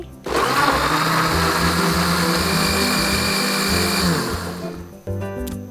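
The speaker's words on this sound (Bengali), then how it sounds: "এবার স্মুদিটি ব্লেন্ড করছি" A blender runs loud and steady, blending a strawberry banana smoothie, a continuous whirring motor that holds for about four seconds, dips briefly and restarts near the end.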